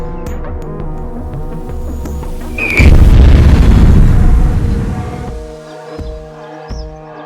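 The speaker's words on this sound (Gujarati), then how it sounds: "સાથીઓ હા બોમ્બ તો ફૂટી ગયો" A deep, heavy explosion booms out suddenly and rumbles for a couple of seconds before fading, over a low droning musical background.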